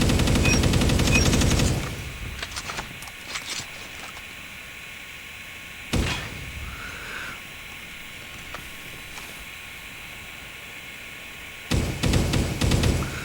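Assault rifle gunfire in the mobile game Call of Duty Mobile: a loud sustained automatic burst at the start, then scattered single shots and a final rapid burst near the end.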